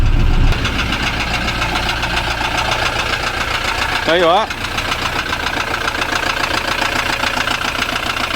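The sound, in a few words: Ford Transit Mk7 diesel engine idling with injector knock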